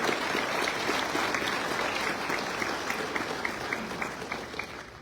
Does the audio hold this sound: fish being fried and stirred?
no